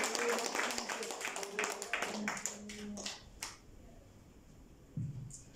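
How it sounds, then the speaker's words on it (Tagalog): A church congregation claps loudly during a Sunday worship service, a dense patter of hands that fades out, with a preacher's voice and murmuring in the background. "Palakpak tayo ng malakas mo."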